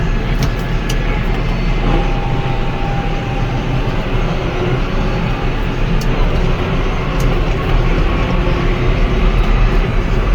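A heavy vehicle shifted into road gear and driving, a loud, steady low engine drone with dense rumbling road noise, unbroken for about ten seconds and close to the listener.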